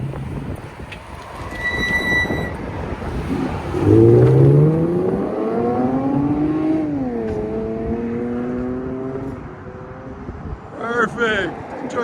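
A 2015 Lexus RC 350 revs through its exhaust. The engine note climbs and then holds in a sustained rev before settling, and sharper revs close out the stretch.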